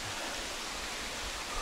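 A 30-metre waterfall in the Dvubratsky canyon near Tuapse pours in a steady, unbroken rushing roar, fairly faint and heard alone without any voices.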